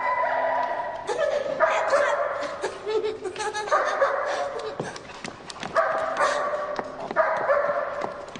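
A dog in a French crime drama barks repeatedly in short, loud bursts, with yips and whimpering sounds between the barks.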